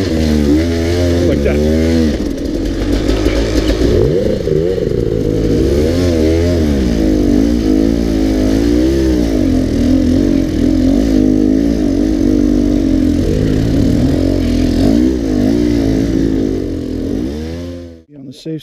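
A dirt bike engine revs hard and steadily while climbing a trail on the Boundary Trail Loop in Gifford Pinchot, close and continuous with rising and falling throttle, and a person speaks briefly over it.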